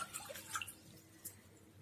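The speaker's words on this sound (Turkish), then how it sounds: "4 su bardağı suyumu tencereme alıyorum." Four cups of water splash and trickle into a metal pot in short bursts, fairly close and moderately quiet, with no voices.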